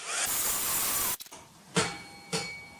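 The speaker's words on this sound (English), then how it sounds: "So I'm just going to dry this off with my heat gun." A heat gun blows a steady loud rushing hiss while drying a handmade greeting card, then cuts off, followed by two brief soft knocks.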